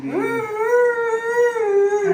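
A person imitates a dog howling with a single sustained, wavering howl held for about two seconds, close and loud, with no other sound around it.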